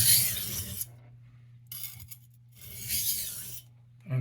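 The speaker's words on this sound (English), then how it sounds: "we're gonna cut a bevel into this blade" Steel blade of an 8-inch carving knife ground against a sharpening surface to cut a bevel, three separate rasping strokes with brief pauses between them, quiet and close, over a steady low hum.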